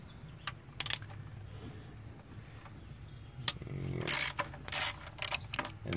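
Ratchet with an extension loosening the intake bolts on a Mazda Tribute engine, a few short bursts of rapid metallic clicking separated by quiet pauses.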